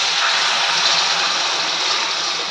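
Water pours steadily into a cooking pan while pumpkin leaves are being cooked, a loud, close, continuous gushing splash with no break and no talk over it.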